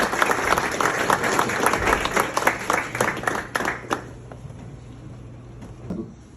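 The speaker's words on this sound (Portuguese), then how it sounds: "Que nós acolhemos com uma salva de palmas." An award ceremony audience breaks into applause, many hands clapping densely for about four seconds before thinning to scattered claps over a low background hum.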